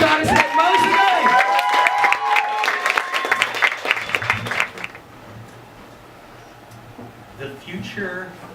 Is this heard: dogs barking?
no